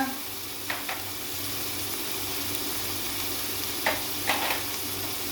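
Ground spices, chili, turmeric, cumin and coriander powder roasting in a pan for dhaba-style bhindi keema, a steady soft sizzle throughout with a few faint stirring scrapes, close and without speech.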